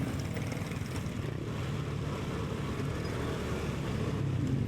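Road traffic in Antipolo, heard from inside a moving vehicle as a steady low rumble of engines and tires, continuous and even throughout with no talking.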